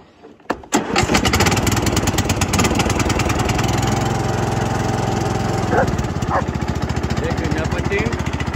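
An MTD SE 135 lawn tractor with a rattling axle cranks and catches, then its engine runs loud and close with a fast, steady chugging beat that goes on without a break.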